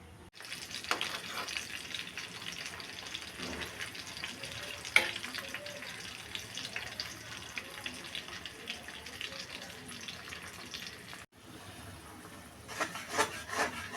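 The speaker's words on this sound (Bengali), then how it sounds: "তেলে সব মশলা দিয়ে মশলা কষিয়ে নিচ্ছি" Spices frying in oil with onion, ginger and garlic paste, turmeric, chili and salt for pabda fish: a continuous close sizzle with rubbing, scraping stirs, briefly dropping out near the end before resuming.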